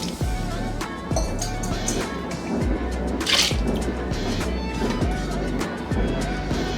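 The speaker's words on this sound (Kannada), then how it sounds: "ಇದಕ್ಕೆ ನೀರು ಹಾಕೋತಾ ಇದ್ದೀನಿ" Water pours steadily into a pot of toor dal (lentils) being readied for rasam, a continuous close splashing and trickling with some background noise.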